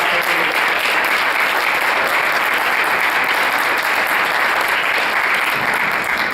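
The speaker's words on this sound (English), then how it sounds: "So please join me in welcoming Senator Tom McGee, and another round of applause for his support." A roomful of people at a beaches commission regional meeting applaud Senator Tom McGee, a loud, dense, continuous wash of clapping holding steady from start to finish.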